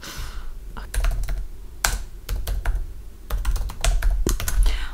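Typing notes on a computer keyboard: quick irregular runs of close, crisp key clicks with brief pauses, over a low background hum and no speech.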